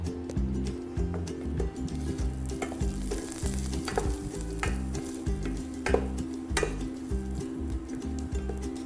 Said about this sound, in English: just stir frying the aromatics until they release their flavors and brown